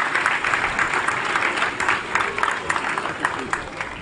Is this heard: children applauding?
yes